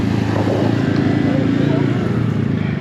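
A mini bike engine idles and runs close by, a steady low droning rumble holding throughout, with people talking over it.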